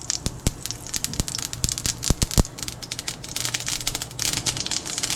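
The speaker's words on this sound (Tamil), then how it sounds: "அதுக்கு எண்ணெய் ஊற்றிட்டு கடுகு" Mustard seeds crackle and splutter in hot oil for a potato curry, a dense, steady run of sharp pops and sizzling close by, with several louder snaps standing out and no talking.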